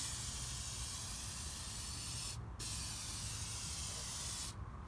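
Steady aerosol spray paint hiss runs continuously, with two brief pauses, close and fairly loud over a low background rumble.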